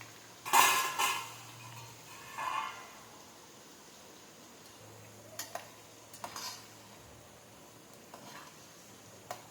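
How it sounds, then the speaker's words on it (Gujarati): Chickpeas frying in hot oil over a medium flame, with soft sizzling broken by a loud clatter of stirring early on and a few sharp utensil clicks scattered later. "તેને આપણે મીડિયમ ફ્લેમ પર રાખીને ફ્રાય કરવાનું છે ચણા."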